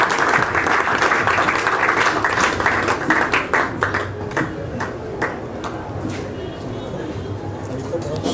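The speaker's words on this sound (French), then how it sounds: "sous vos applaudissements s'il vous plaît" An audience at a literary reading event applauds, a dense wash of many hands clapping that swells then gradually thins out, with voices talking over it.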